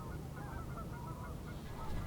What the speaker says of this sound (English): I found these Canada geese in a field, poking around, looking for whatever they could find.